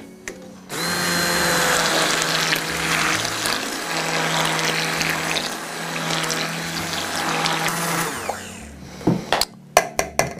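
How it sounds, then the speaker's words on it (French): A kitchen blender whirs steadily through chocolate ganache made with cream, running loud and continuous for several seconds before stopping, followed by a few sharp clatters and knocks. "je passe un coup au mixeur"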